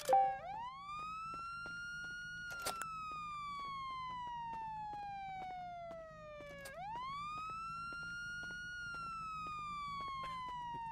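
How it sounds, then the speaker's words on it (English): A police siren in a video game wails steadily, its pitch sweeping slowly down and then jumping back up, with faint clicks and taps underneath. "Oh my gosh, whose siren is going off?"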